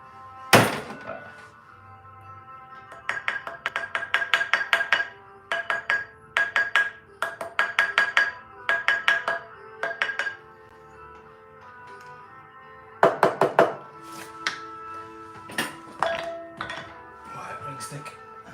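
A rawhide mallet taps a 9ct rose gold 1mm halo wedding band on a steel triblet, in close, sharp bursts of rapid strikes separated by short pauses, with a final scattered group of louder knocks.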